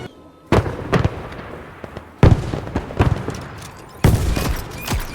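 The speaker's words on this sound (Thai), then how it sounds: "เนี่ยยิงยิงยิงมันยิงเพื่อนได้ทุกคน" Bursts of gunfire ring out in the Roblox shooter War Machine, three loud volleys of rapid shots with short gaps between them, close and sharp.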